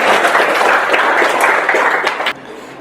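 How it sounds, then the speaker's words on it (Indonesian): Applause from a group of students during a shot put lesson on the glide technique: a loud, dense burst of clapping that holds steady, then cuts off abruptly, leaving quieter room noise. "tepuk tangan untuk kita semua"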